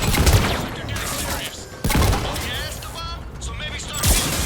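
Gunfire in Mass Effect 3 comes as sharp bursts of shots over a rumbling battle din, with people talking over the shooting.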